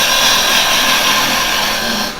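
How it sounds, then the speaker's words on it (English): A turning tool cuts into spinning wood on a woodturning lathe, making a steady, loud, hissing scrape that holds nearly level throughout and eases off slightly toward the end. "I'm going to take one more little cut"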